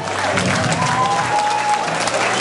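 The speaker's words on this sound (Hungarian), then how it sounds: "egy nagy tapsot kérnék" A crowd applauds loudly at a running event in Vác, Hungary, dense steady clapping filling the whole stretch.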